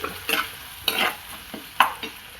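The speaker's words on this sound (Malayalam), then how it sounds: "ഇതിലോട്ട് നമുക്ക് മഞ്ഞൾപ്പൊടി ചേർത്ത് കൊടുക്കാം" Turmeric powder frying in hot oil for a pearl spot fish curry, with a spoon stirring through it in several distinct scraping strokes over a soft sizzle, close and clear, with no talking.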